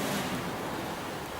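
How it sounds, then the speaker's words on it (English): Sea waves make a steady, soft broadband wash of surf that holds evenly throughout, fairly distant and without distinct breaks. No speech. "It sounds quite loud here, but this is the sea."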